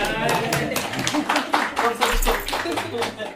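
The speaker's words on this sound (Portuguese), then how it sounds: "Palmas pro Jefferson." Audience clapping at a live podcast event in Curitiba, scattered claps with a voice talking over them, the clapping fairly close and mixed with speech.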